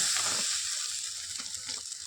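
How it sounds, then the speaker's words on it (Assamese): Curry for a drumstick (sajina) dish bubbles and simmers in a pan, a steady close hiss with soft popping and occasional stirring, no voices present. "ভালদৰে উতলি আহি আছে"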